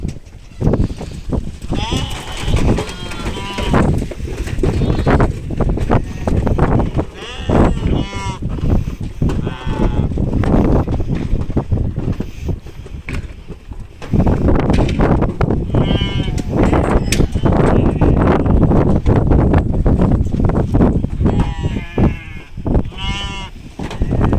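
A crowd of goats bleating loudly and almost continuously at feeding time on a desert farm in Oman, many overlapping calls close by, with bits of voices in the noisy farmyard.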